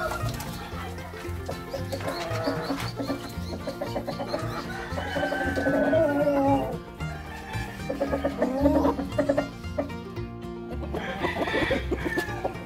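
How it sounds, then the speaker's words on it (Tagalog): Black Australorp crossbreed rooster and hens on a farm, clucking repeatedly in irregular bursts with some louder calls, close and clear, with no talk. "So itong rooster na ito mga ka-farmers ay maaari din natin itong tawaging Black Australorp."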